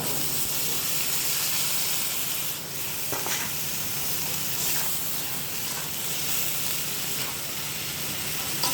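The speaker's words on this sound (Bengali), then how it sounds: "ভালো করে কষিয়ে নেব" Vegetables fry in a pan with a steady, dense sizzle and hiss throughout, broken by a few soft scrapes as they are stirred, all heard close by with no talk.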